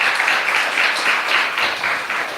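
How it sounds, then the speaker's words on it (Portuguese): A church congregation applauds during a sermon, a dense steady wash of many hands clapping at once, held at a fairly even loudness for the whole stretch before easing off slightly at the end. "Você pode aplaudir ao Senhor?"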